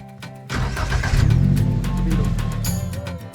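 A farm transport vehicle used to carry harvested crops starts up and runs, its mid-pitched engine catching, revving steadily close by, then settling, with little else heard.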